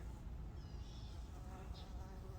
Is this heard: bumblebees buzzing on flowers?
yes